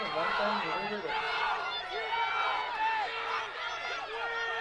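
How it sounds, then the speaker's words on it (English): Fans, teammates and coaches at a college Division III track and field meet cheering on runners down the backstretch, a lively mix of whoops and shouts, moderately distant, with a commentator speaking over it. "you really hear the fans and some of the teammates cheering and coaches cheering on their student athletes down this backstretch"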